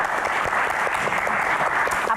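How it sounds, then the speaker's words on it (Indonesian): An audience at a Q&A event claps steadily, a dense, even wash of applause lasting the whole moment with no talking over it. "Tepuk tangan untuk Axel sebagai"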